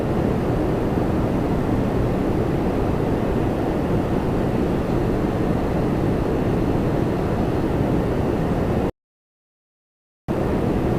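A Saudi airliner departs Toronto Pearson bound for Jeddah, a constant heavy jet roar filling the air with no talking before a brief gap of silence near the end.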